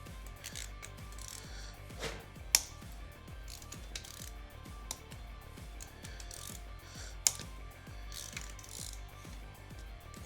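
A ratchet clicking steadily while rocker arms are loosened on a Silverado engine, a fast repeating mechanical pawl rattle close by, with a few sharp metallic knocks.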